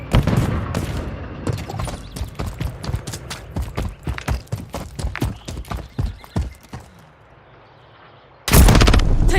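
Rapid bursts of gunfire in Call of Duty MW3, loud, close and irregular for about seven seconds, then a brief lull before a sudden loud blast at the end.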